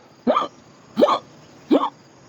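A voice imitates hiccups as a breathing cue in ujjayi pranayama yoga practice, with three short, sharp hiccup-like catches spaced about 0.7 seconds apart, close and clear.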